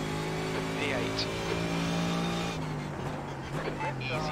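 A Mercedes GT3 race car in iRacing at Spa-Francorchamps holds a steady, droning engine note alongside another car passing on the left. The pitch dips and shifts partway through, and a voice talks over it.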